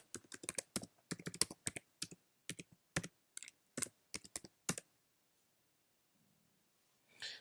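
A password is typed on a computer keyboard to log into Docker Hub: quick, crisp keystrokes come in uneven bursts for several seconds, then stop, leaving near silence.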